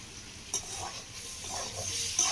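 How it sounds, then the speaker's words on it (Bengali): Spiced potato filling for cauliflower chops being stirred and mixed, a soft, faint scraping and mashing with a brief louder knock, no voices. "উপকরণগুলোকেই ভালো করে এইভাবে একটু আলুর সঙ্গে মিশিয়ে নিতে হবে।"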